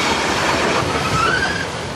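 A narrow-gauge train on the Pelion railway in Greece rumbles steadily along the rails nearby, with a brief high metallic wheel squeal rising over the continuous rolling noise.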